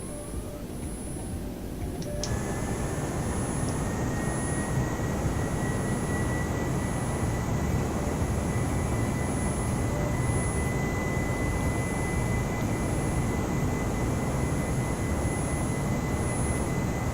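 Iberia A320neo jet engines roaring steadily during the climb after takeoff in Microsoft Flight Simulator 2020, a constant loud broadband rumble with a sustained high whine that rises in after the first two seconds.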